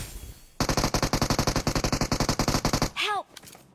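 Enemy bots firing in a shooter video game: a long rapid burst of automatic gunfire, evenly spaced loud shots, then a short whooshing sweep and a few scattered quieter sounds.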